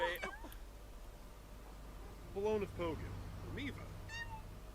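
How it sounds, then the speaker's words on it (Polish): Cats meow in The Sims 4, a few short close calls in quick succession while a person talks quietly over them. "Koty."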